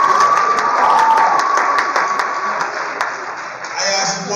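Lively applause from a student audience at a high school alumni panel, with crowd noise, a sustained tone and voices mixing in, fading briefly before swelling again near the end.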